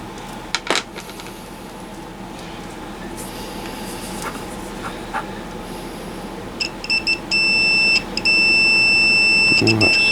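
A multimeter on continuity test gives a steady electronic beep, sounding in short bursts and then a sustained tone near the end, after scattered clicks and taps of probes.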